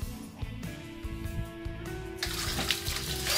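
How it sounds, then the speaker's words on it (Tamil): Cooking vessels being rinsed in water in a home kitchen: steady running and splashing water that swells into a broader rush about two-thirds of the way through, with background music underneath and no talking. "லேசா எடுத்து தண்ணில லேசா அலசி வச்சாலே இதுல கம்ப்ளீட்டா டர்ட் போயிரும்"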